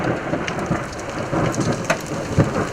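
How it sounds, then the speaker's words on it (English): Hailstorm pounding a car during a violent storm, the downpour a dense, steady roar of impacts on the vehicle with sharper cracks of larger stones now and then, close and loud throughout, with no voices. "That was the biggest hail."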